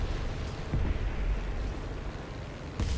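Rockets launched at an Abrams tank in War Thunder, heard as a steady rumbling barrage of explosive booms with a sharper blast near the end, loud and with no talking.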